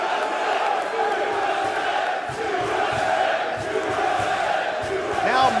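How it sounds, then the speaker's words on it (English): A wrestling arena crowd roars and yells in a sustained, heavy wash of voices at a Ring of Honor event, loud and continuous with scattered shouts rising above. "the crowd reacts vehemently to that show of sportsmanship"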